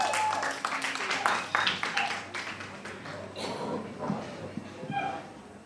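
At a stand-up comedy show at the Edinburgh Castle in Melbourne, a scattering of audience claps rings out unevenly while voices talk over and between them.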